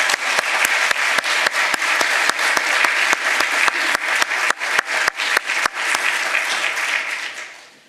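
Audience applause closing a cancer research symposium, a dense, steady wash of clapping with sharp, regular strikes standing out, fading away near the end.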